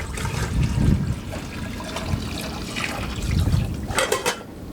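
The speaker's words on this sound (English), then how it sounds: "The rain that I collected goes into these jugs, and then I pour that into the Berkey filter." Collected rainwater pours from jugs into a Berkey water filter, a gurgling, splashing stream that swells and eases over a few seconds.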